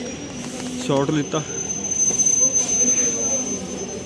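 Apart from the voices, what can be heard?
train passing on rails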